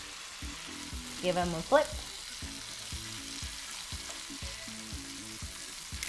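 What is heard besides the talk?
baked savory tofu frying in sesame oil in a pan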